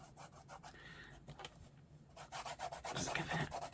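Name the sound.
rubbing glued paper pocket onto lapbook journal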